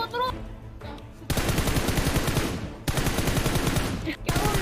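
Rapid automatic gunfire in PUBG Mobile rattles out in loud sustained bursts with brief pauses between them, close and dense, dominating the scene.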